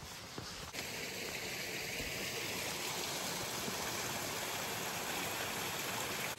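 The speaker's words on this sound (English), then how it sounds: "I guess this is both a trail and a creek." Creek water runs along a hiking trail near Franklin, North Carolina, on the Appalachian Trail, a steady close rushing and babbling flow that continues without break.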